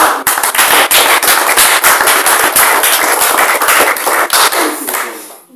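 A church congregation bursts into loud, dense applause, with rapid, rhythmic hand claps filling the room before fading at the end.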